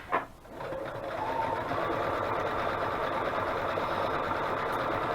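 A sewing machine stitches around the edges of paper journaling cards, a single click followed by a steady close whirring run that holds for several seconds.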